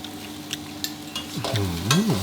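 Egg tofu stir-fried with chili and salt in a pan over medium-high heat: a steady soft sizzle with a few light scrapes and stirring clatters, close by and with no voices.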